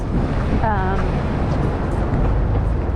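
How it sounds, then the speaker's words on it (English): Strong, cold wind in New York City buffets the microphone with a low rumbling roar, while a brief tonal sound rises in the background. "it's really windy, it's really cold"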